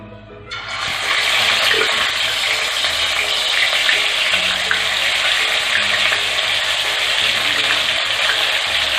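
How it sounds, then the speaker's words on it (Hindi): Marinated fish frying in hot oil in a kadhai over medium flame, a loud steady hiss and sizzle that starts abruptly and holds evenly throughout. "अब इसको मैरिनेटेड फिश को हम इसमें फ्राई कर लेंगे"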